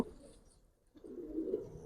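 A female Giribaz pigeon gives soft, low cooing close by, fading to near silence midway and then swelling again louder toward the end.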